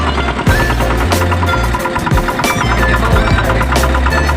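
A tractor stands in a rain-flooded field, its engine running with a steady, loud low rumble and a rhythmic mechanical chug throughout.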